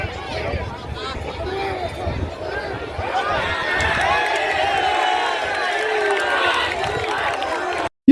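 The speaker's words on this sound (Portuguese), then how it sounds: "começou a vaiar o time e dar olé em cada passe de bola do Atlético Piauiense" Football crowd at a Parnahyba SC home match against Atlético Piauiense, loud stadium fans booing and chanting olé in waves, a broad sustained roar that swells midway, with a commentator's voice over it.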